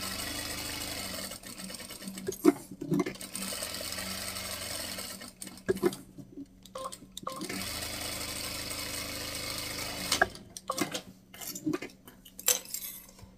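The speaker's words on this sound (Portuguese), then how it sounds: "Agora, eu venho pelo lado da manta e passo uma costurinha de segurança a toda a volta." A sewing machine runs a safety seam around fabric to attach an appliquéd pocket on an owl-themed phone holder, its stitching coming in close, steady bursts separated by short pauses.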